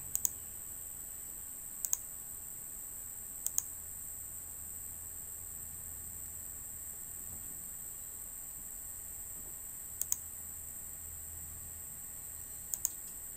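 Computer mouse clicking on a Windows PC while setting up IntelliJ, a few sharp isolated clicks, some in quick pairs, over a steady background hiss and hum, with no voices.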